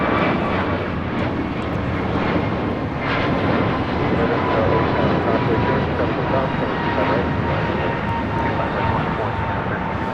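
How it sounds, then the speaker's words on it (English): An American Airlines Airbus A321neo takes off from Los Angeles International Airport, its engines giving a steady, loud roar that fills the whole stretch, with voices talking over it. "591 taking off to Washington Reagan National on an A321neo"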